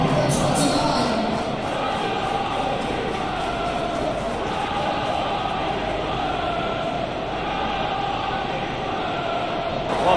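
A football stadium crowd at a Tottenham Hotspur versus Chelsea Premier League match cheers an equaliser in a dense, steady roar that holds at full volume throughout.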